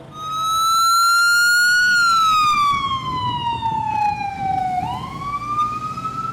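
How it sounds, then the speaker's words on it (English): A Red Cross ambulance siren wails loud and close on a Tijuana street at night, a single long tone sliding slowly downward, then jumping back up as the vehicle rushes past. "Ambulances from Tijuana's Red Cross rush to the scene when a shooting occurs."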